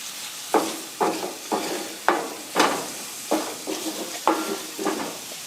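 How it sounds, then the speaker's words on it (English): Shakshuka is stirred in a pan on an outdoor barbecue: a steady fry-sizzle with a regular scraping stir about twice a second, close and moderately loud. "Give that, all of that a good stir, and then we're going to let that cook for about 2 to 3 minutes"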